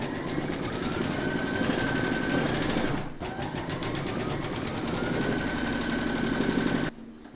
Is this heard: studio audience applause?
no